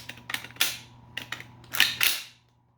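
Sharp mechanical clicks and clacks from a Century Arms C308 rifle during a functions check, several crisp close metallic snaps in quick succession, alone without talk.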